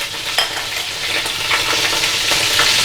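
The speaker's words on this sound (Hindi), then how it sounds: "पाए बिल्कुल हल्के से हमने भूनना है इसे।" Goat trotters fry in a pan with ginger garlic paste, salt and turmeric, making a loud, continuous sizzle up close, with light stirring scrapes and small crackling pops throughout.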